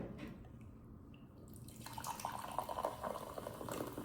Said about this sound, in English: Just pour it into a nice little glass.